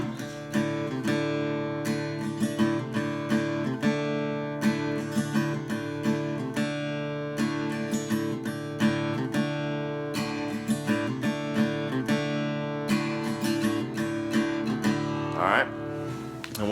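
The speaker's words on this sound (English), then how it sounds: "the main part of the song is that iconic little riff that you hear throughout the whole entire song" An electric guitar plays the recurring riff of a song, a short pattern of plucked notes and chords repeated steadily at moderate volume, alone and without talking.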